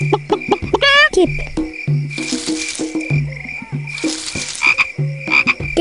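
Short frog croaking calls with a bright rising chirp, set against a busy, repeating soundscape of beeps, clicks and insect-like buzzing from the 1998 Windows game Robbie Konijn - Dreumes: Het Magische Verhalenboek.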